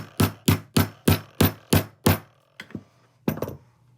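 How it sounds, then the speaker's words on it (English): Hammer driving down a snap fastener stud: seven sharp, evenly spaced close blows in quick succession, then a pause and a few lighter, irregular taps. "and hammer it down."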